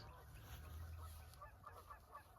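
Faint Canada geese honks call out a few times as they come in to land on a large lake, against a quiet, steady outdoor background, distant and irregular.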